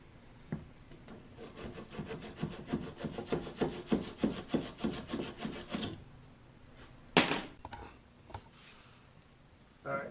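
Rhythmic back-and-forth sanding of a desoldered copper pipe fitting, about six seconds of quick, close rasping strokes, then a loud single scrape and a few scattered knocks.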